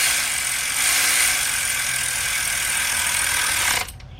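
Steady whirring ratchet tightening bolts that hold a plastic cover on a Ford Fiesta engine, most likely a cordless ratchet, running continuously for several seconds and then stopping abruptly near the end.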